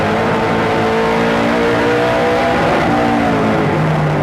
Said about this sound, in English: the sound of those late models going by just gets you all pumped up